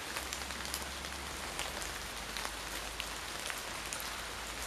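Continuous rain falling on a hard surface, a dense hiss with occasional louder drops landing close by.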